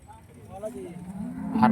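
A Holstein Friesian cow at the Neknoor cattle market gives one short, close moo against quiet background noise.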